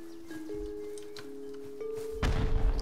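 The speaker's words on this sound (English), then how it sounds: "Oh, there's explosions and shit." Sudden loud blasts from explosions in the video game Rust break in near the end, with rumbling low-end bursts following steady tonal game hum and a few scattered thuds.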